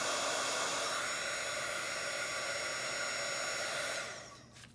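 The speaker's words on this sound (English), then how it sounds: "as you heat up your embossing powder" A heat gun blows a steady, even hot-air roar while melting embossing powder, then quickly dies away at the end.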